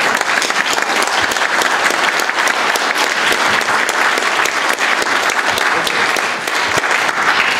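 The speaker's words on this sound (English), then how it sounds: "There was one set of applause rather than seven" Loud, sustained applause from an audience at a state representatives candidate debate, with dense overlapping claps holding steady from start to finish.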